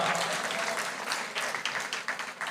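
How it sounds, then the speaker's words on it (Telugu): A church congregation applauds to glorify God, a dense and steady burst of many hands clapping together for a couple of seconds. "నమ్మితే చప్పట్లు కొట్టి దేవుని మహిమపరచు గట్టిగా"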